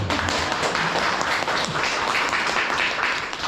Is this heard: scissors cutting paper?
no